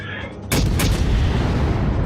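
Naval guns on a warship fire shells in World of Warships, a sudden loud boom followed by a sustained rolling roar that fills the rest of the moment.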